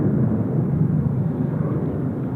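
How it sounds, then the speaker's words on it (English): An Air Seoul airliner taxiing at Incheon Airport, a steady low roar of jet engines at idle that stays even throughout, heard from a distance with no voices. "Here's Air Seoul just taxiing in and about to cross runway 34 right, head towards the apron."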